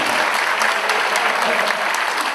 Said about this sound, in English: can we just have a massive round of applause for Yippee Coyote?